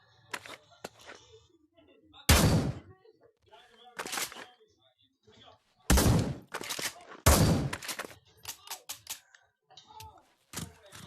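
Gunshots from the Pavlov shooting range, a VR shooter game: a few loud, sharp separate blasts spaced seconds apart among quieter clicks and handling knocks, with voices now and then.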